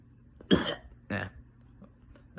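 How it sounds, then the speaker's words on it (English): Two short, close coughs from a person with a mild illness, a second apart, followed by a faint throat sound in a quiet room. "Sorry if I have a cough, everyone."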